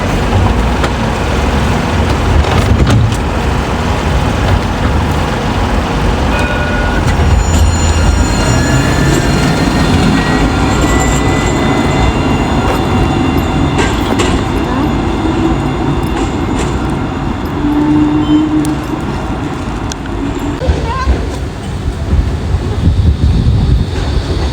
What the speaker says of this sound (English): Is that a tram, Dad?